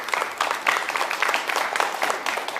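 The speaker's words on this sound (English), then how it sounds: "This is the first time that a lawyer gets the applause too" Audience applause at a Hopi Tribe press conference on French auctions of sacred objects, greeting a lawyer: steady, dense clapping from a room of people, fairly close and continuous throughout with no break.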